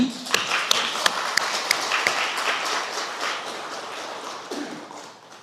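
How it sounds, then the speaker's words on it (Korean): A Buddhist temple congregation at a dharma service claps together, opening with several sharp, loud, separate claps before blending into a sustained round of applause that fades toward the end. "자 박수 한번"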